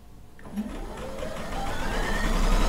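Sewing machine stitching a seam on a quilt top, a steady rapid mechanical whir that builds slightly in loudness, close and alone.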